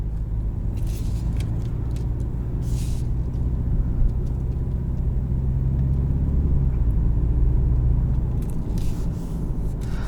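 A 2019 BMW 330i xDrive driving in sport mode, with a steady low engine and road rumble filling the cabin, heard close and continuous, with faint light rattles now and then.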